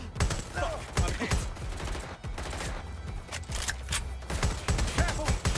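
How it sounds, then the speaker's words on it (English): Bursts of gunfire from the game Watch Dogs: Legion crack out in rapid, irregular volleys, loud and close, with repeated sharp shots and brief lulls between clusters. "Shots fired! Shots fired!"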